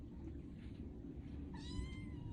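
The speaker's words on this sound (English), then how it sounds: "we have kittens all over the place here at the shelter right now" Kittens at an animal shelter meow faintly, a short run of high, thin cries near the end over a low background rumble.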